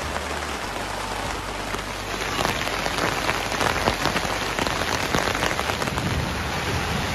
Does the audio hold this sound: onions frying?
no